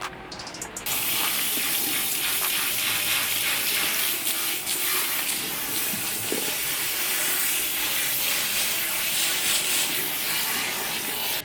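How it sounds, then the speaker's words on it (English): A hair steamer in a salon hisses steadily and loud, a continuous airy rush of steam with a faint watery sputter, starting after a brief quieter moment and running on alone without talking. "So now I'm under the steamer. See the little steam action?"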